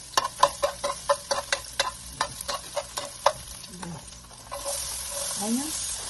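Garlic hits hot oil in a pan for cooking clams, setting off a run of sharp, evenly spaced crackles and pops that fade into a quieter sizzle with a brief scrape near the end.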